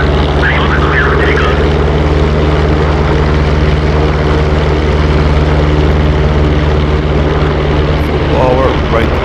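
A P-47D fighter's propeller engine at takeoff power in the DCS flight simulator game, a loud continuous droning roar with steady low harmonics, with a voice speaking briefly over it near the start and end.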